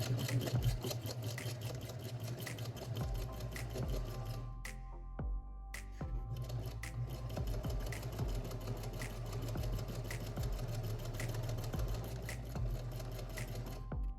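A sewing machine stitches a line across fabric, a steady, close mechanical whir with a rhythmic clatter that stops briefly and then resumes for a long continuous run.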